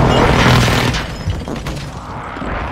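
Airstrike explosions in a shooter video game, a loud booming rumble right at the start that fades and swells with scattered crackling blasts over a dense, noisy battle background.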